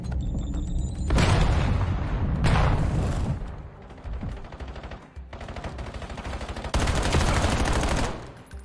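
Dense rapid gunfire bursts from the video game Black Ops 7, loud overlapping automatic shots and booms coming in waves with brief lulls between them.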